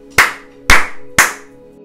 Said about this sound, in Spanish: Ahora aplaude 3 veces fuertemente.